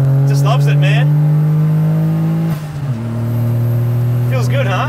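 Daihatsu Mira kei car engine revving hard, a loud steady buzzing drone held near, then dropping sharply after a shift before settling into a lower hum, with a voice speaking over it.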